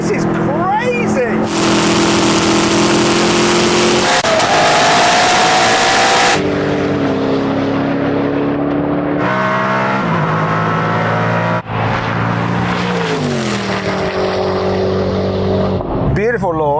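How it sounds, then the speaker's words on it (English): A Koenigsegg Regera and Agera launch off the line, giving loud, close engine roars that climb in pitch through repeated shifts, with excited talk over them. "Beautiful launch, synchronized off the line."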